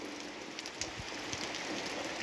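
Steady rain falling on a rural smallholding, a soft continuous hiss with scattered drops pattering nearby, no voices.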